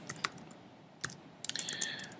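Typing HTML markup on a computer keyboard, a few quick, close clicks, then a pause, then a denser burst of key taps, faint and alone.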